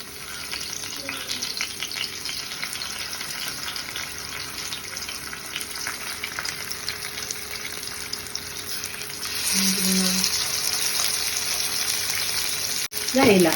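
Small fresh mackerel frying in a pan with curry leaves, a steady close sizzle and crackle throughout, growing a bit louder and brighter near the end, with a few soft stirring clinks and no talk.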